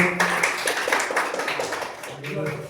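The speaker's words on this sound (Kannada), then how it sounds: "ನಂಬರ್ 3 ಚಪ್ಪಾಳೆ ಬರಲಿ ಮಕ್ಕಳಿಗೆ" Children applauding at a school quiz competition in a classroom, a patter of clapping running throughout the short stretch, mixed with voices talking over it.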